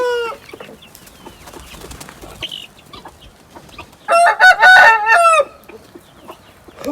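Hens cluck and chatter in the background, then a rooster crows loudly and close by for about a second, followed by more soft clucking.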